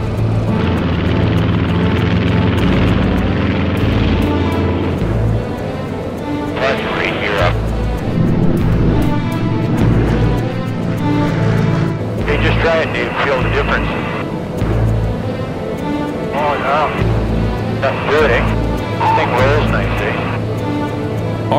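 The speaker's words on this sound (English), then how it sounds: "Finally, this CL-215 is ready for a test flight." The piston engines of a Canadair CL-215 water bomber drone on a test flight with a strong, pulsing low throb. Voices talk over the engine noise at intervals.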